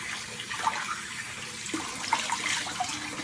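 Water runs from a tap and drains in a sink for a rinse during a wet shave, a soft, steady splashing hiss at low level with a few small gurgles.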